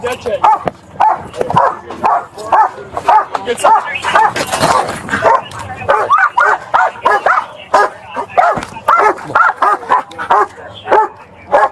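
A police dog barks repeatedly at the end of a high-speed chase, sharp near barks in rapid bursts mixed with whimpers, while officers talk over it.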